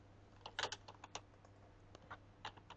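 Password keys tapped on a computer keyboard during a website login, a quiet run of separate clicks in short bursts with brief pauses between them.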